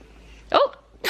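A young child sneezes once at close range, a short sharp burst followed moments later by a second breathy blast.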